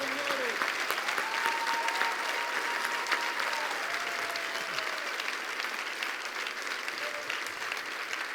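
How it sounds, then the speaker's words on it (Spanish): A church congregation applauding during a Spanish-language service, a steady, full wash of clapping across the room with occasional voices and cheers underneath. "Le damos un aplauso fuerte al Rey de Reyes"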